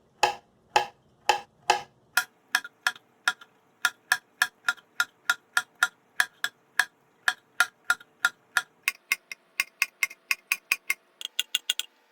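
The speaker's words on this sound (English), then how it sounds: "let's get started slicing the ampalaya or bitter melon" A knife slicing ampalaya, or bitter melon, into thin pieces on a board, producing sharp, evenly spaced taps that speed up into a quick steady rhythm, close and clear with no talking.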